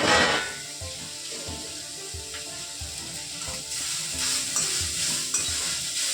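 Food tipped into a hot frying pan and stirred, with a steady sizzle throughout and repeated scraping and knocking of a utensil against the pan at close range.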